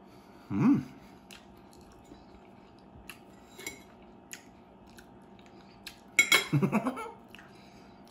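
A fork clinks against a plate while eating potatoes at a dinner of crabs, shrimp, corn and potatoes, with two distinct sharp clatters early and late, and faint ticks and soft chewing between them.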